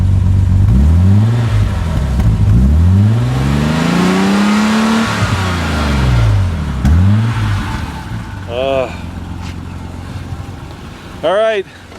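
A BMW M6 inline-six 24-valve engine revs up repeatedly, rising and falling in strong sweeping blips close by, with a couple of sharper high revs near the end; a voice talks briefly over it.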